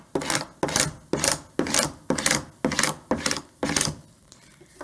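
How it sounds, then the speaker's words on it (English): Eight even, rhythmic rasping strokes as a scraper tool burnishes vinyl transfer tape on a welcome sign, each pass loud and close with brief gaps between, and no talking. "for good measure, I'm just going to burnish one more time"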